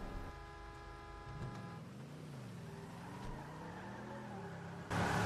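A car in the video game GTA 5 starts and drives off, its engine note rising and falling steadily and close, with a brief louder burst at the end and no talk.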